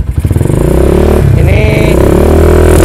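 Custom Megapro motorcycle built in a basic minimalist café-racer style, its carbureted engine running loud and close, with a steady idling throb and a brief rev midway.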